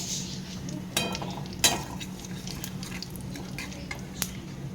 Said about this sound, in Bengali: এবার আমি ফোড়নে দিয়ে দিলাম কালো জিরে